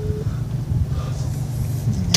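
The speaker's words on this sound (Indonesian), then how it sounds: "Ini mobil ngapain ya, belak-balik mulu" A car passes close by on a street, a low steady engine rumble that swells slightly midway, with a brief sharp rattle at the very end.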